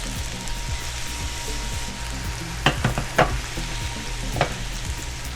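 Eggplant, tomatoes and red peppers frying in oil for ratatouille, a steady close sizzle with a few brief clacks of a stirring spoon against the pan.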